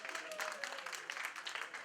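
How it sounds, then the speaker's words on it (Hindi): An audience gives loud applause for a performer at a live stage show, with dense, continuous clapping filling the whole short stretch. "इनके लिए जोरदार तालियां"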